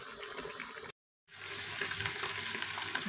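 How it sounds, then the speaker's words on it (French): Lamb rendering and frying in its own fat after its water has cooked off, for a potato gratin with leg of lamb; a steady close hiss and crackle that cuts out briefly, then returns at an even level. "le gras et commence à griller la viande"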